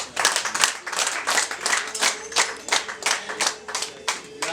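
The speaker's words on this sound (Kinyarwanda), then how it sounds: "bakumera amashyi meza." Guests at a wedding reception clap together in a loud, continuous round of applause, with dense overlapping hand claps and repeated bursts for several seconds.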